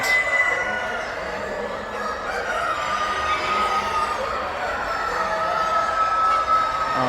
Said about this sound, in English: There are also massive chickens here.